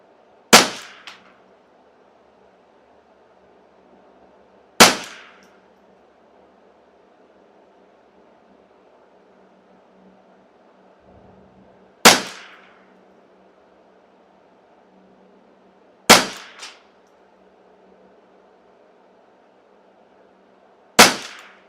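Five sharp rifle shots from a customized Custom Shop Ruger 10/22, each a loud crack with a short ringing tail, spaced several seconds apart outdoors with no talking.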